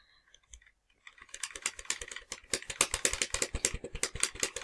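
Rapid, crisp clicking taps in quick succession, close and dry, building into a steady busy patter after a brief quiet start.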